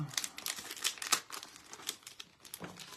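Crinkly plastic packaging being handled and torn open to get at a slip for a heart locket craft; close, bursty crumpling and rustling in irregular bursts with short pauses.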